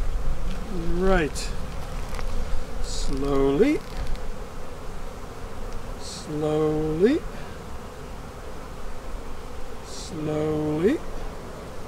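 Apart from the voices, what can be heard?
honey bees buzzing around hive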